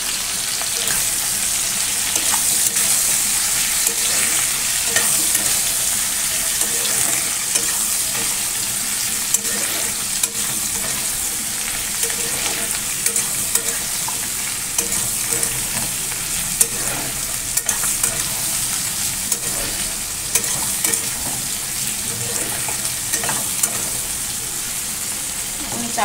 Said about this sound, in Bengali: ভাজা ভাজা হয়ে গেছে আনাজ